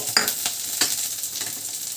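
Garlic, chillies and curry leaves sautéing in hot oil for a North Karnataka ridge gourd palya, a close sizzle broken by several scraping stirs of a spoon in the pan.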